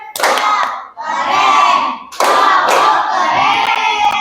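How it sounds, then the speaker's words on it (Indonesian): A class of schoolchildren claps together for their classmates, a loud, dense burst of hand claps that dips briefly and then resumes strongly, with children's voices mixed in. "Oke, tepuk keren dulu untuk teman-temannya."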